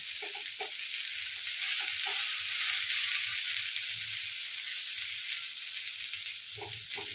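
Chopped onion sizzling in oil in a pan for a Kerala raw-banana stir-fry, a steady frying hiss broken by occasional scraping stirs of a spoon.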